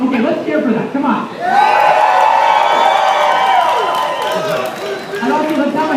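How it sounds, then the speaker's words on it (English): A classroom crowd cheers and whoops at a protest-style chant, a loud sustained burst of mixed voices that swells for several seconds and then eases. "let's cheer for that"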